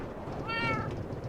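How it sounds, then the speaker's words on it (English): A cat meows in the Minecraft video game, a single drawn-out call rising and falling over a steady background hum of game ambience. "Cat."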